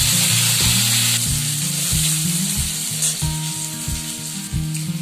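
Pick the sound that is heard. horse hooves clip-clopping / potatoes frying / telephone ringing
potatoes frying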